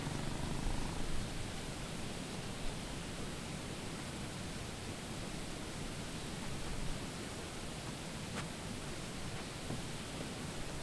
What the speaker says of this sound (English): The cat was too preoccupied to notice me.